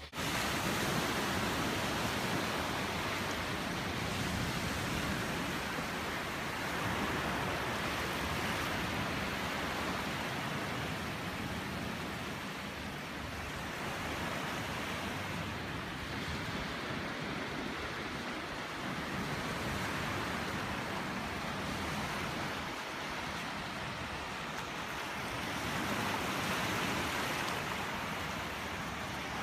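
Waves and surf roll onto a beach in a steady, dense wash of noise that swells gently over half a minute, with wind and no voices.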